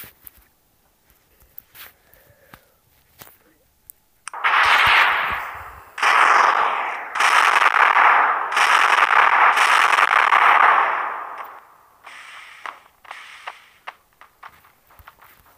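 A long, loud roaring burst of explosions in a video game rumbles for several seconds with crackling pulses, preceded and followed by scattered small clicks and pops.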